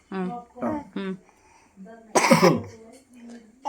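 Several harsh coughs in quick bursts, close by, followed by a louder throaty cough and some quieter breathy sounds.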